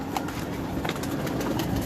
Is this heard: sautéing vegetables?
no